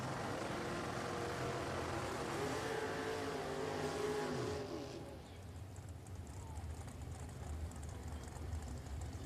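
A drag racing dragster at Richmond Dragway roars loudly for several seconds, its engine note sweeping as it launches and pulls away, then fades into a lower distant rumble with crowd ambience.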